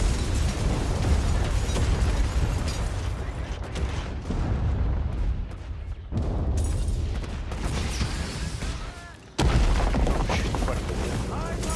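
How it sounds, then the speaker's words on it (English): Off-map naval artillery barrage in the Company of Heroes 3 video game, a dense rolling series of loud booming explosions and bursts mixed with battle noise, with voices shouting over the blasts. "Go ahead and use the off-map naval artillery."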